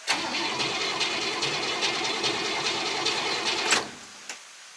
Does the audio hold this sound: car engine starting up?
yes